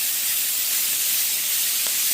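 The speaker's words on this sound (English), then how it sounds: "let's cook some peppers down" Peppers sizzle in a hot cast iron pan for fajitas, giving a steady, close, bright hiss throughout with no talking.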